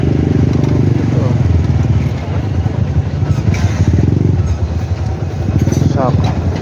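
A Honda Beat motorcycle engine revs loudly and steadily, close by, with brief throttle dips and rises while people talk over it.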